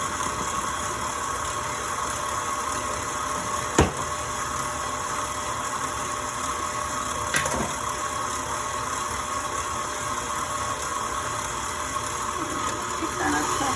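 An electric stand mixer beats zucchini bread muffin batter at high speed, giving a steady, continuous motor whir with a couple of faint knocks, close by and uninterrupted.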